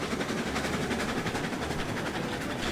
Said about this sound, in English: That's a cool sight, seeing the train go by with the snow